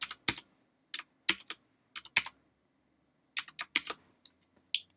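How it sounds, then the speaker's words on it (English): Keys on a computer keyboard clack in short irregular bursts as a password is typed, close and crisp against a quiet room. "enter the password from the email"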